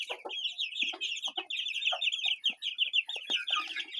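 Hens and a rooster cluck in a busy, continuous chorus of short overlapping calls, close by and fairly loud, with no talking.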